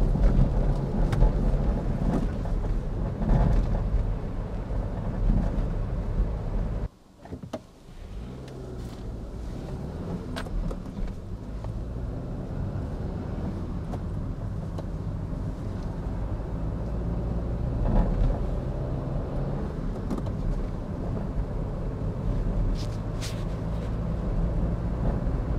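A car drives through town at no more than 50 km/h. The cabin rumble is low and steady, with a short dip partway through and road noise throughout. No voices are heard.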